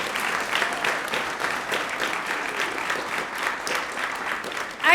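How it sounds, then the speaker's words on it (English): An audience claps steadily in dense, sustained applause, a broad wash of hand claps from a sizable crowd heard up close. "Please give them another round of applause."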